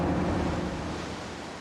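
Indian Ocean surf washing against an ancient Silurian rock shoreline on a remote stretch of the Western Australian coast, a loud continuous rumble and wash that eases slightly as the wave recedes, with no voices.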